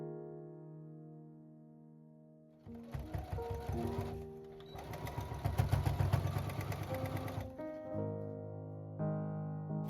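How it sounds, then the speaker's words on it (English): A sewing machine stitches the outer shell of a fabric bag with right sides together, running in a steady, close whirring burst for several seconds between quieter stretches of background tone. "Sew it around the edge at the outer shell right sides together."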